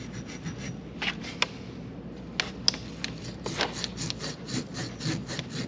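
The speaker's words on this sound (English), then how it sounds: "I took a little bit of this white Scotch Brite." A white Scotch-Brite pad scrubs a brake caliper from a Yamaha RD400 motorcycle, a soft rhythmic rasping rub repeated in quick strokes, close and fairly quiet.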